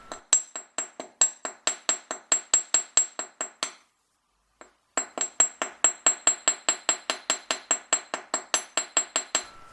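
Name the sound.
rawhide mallet and chasing hammer on wire clasp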